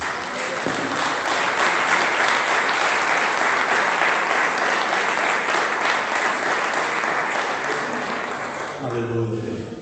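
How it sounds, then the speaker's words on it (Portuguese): A church congregation applauds the Lord during a sermon, steady dense clapping filling nearly the whole stretch before a voice comes in at the very end. "vamos aplaudir o Senhor"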